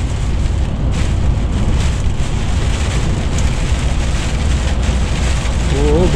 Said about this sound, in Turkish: Sulu kar yağıyor.